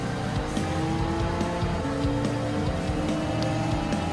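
A 2017 Honda NSX race car at Daytona in Gran Turismo 7 drones along at full throttle, engine tone steady and loud with brief tire squeal over the roar, no talk.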